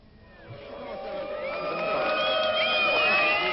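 Demonstration crowd of CGT protesters greeting Pierre Mauroy in the centre of Cergy-Pontoise, a mixed din of heckling shouts, whoops and applause that swells steadily from moderate to loud over a dense outdoor babble of voices.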